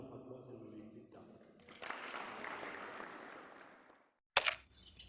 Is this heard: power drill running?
no